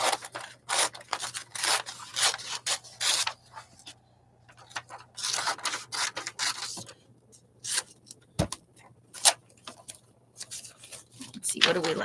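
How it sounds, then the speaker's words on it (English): Scissors snip through glossy magazine pages as images are cut out, giving repeated crisp cuts with paper rustling and shuffling between them, close and fairly quiet, with brief pauses in the cutting. "we're gonna cut out some of these"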